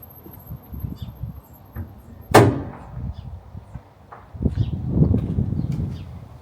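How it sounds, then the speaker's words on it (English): The bonnet of a VW Crafter van is shut with a single loud, sharp slam near the start, followed by rustling, shuffling handling noise close by. "Fingers crossed the bonnet shuts."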